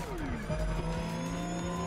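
An electric Porsche Taycan racing in the video game The Crew Motorfest, a continuous whining motor tone with rising and falling pitch sweeps and tire noise, fairly steady and close.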